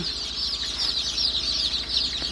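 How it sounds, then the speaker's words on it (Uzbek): Newly hatched Andijan black chicks inside an incubator fill the air with a continuous, dense chorus of high, overlapping peeps that stay close and steady throughout, with no one speaking. "Andijon qora jo'jalari"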